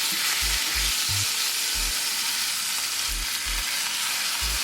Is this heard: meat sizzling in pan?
yes